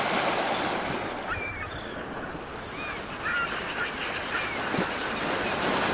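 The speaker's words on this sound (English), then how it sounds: "The river flows into the ocean." Ocean surf washes continuously with gusting wind, while faint bird-like calls break through the roar of the waves.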